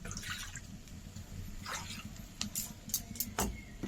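Water runs and splashes while small bowls are rinsed by hand, quiet trickling with a few clinks and drips near the end.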